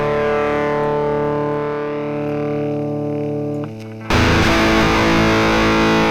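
A heavily distorted, sustained guitar-like tone runs through the Airwindows Cabs amp cabinet plugin with its room loud setting, steady and buzzing, then briefly dips and bursts back harsher and noisier toward the end, with no voices.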